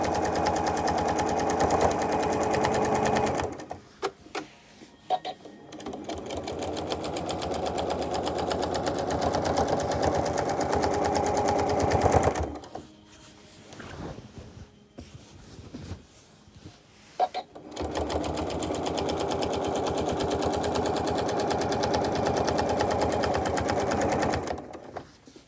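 A sewing machine quilting straight lines with a stitch-in-the-ditch foot hums in long continuous runs of rapid, even stitching, broken by two pauses filled with faint clicks and handling, close and steady.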